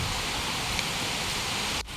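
Heavy monsoon rain falls steadily with rising wind, a dense unbroken roar of water at close range with no speech, a brief drop in level near the end.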